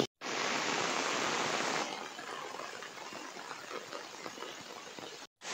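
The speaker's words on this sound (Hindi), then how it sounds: "देखो गाइज केते जोरे वर्षा होची" Heavy rain pours down outdoors as a dense, steady hiss that is louder at first and then eases to a softer, continuous patter with occasional droplet splashes.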